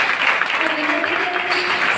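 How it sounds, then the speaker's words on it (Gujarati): An audience at a college talent morning programme bursts into dense, continuous applause, loud and close, with a voice briefly audible over the clapping. "જોરદાર તાળીઓ થઈ જાય."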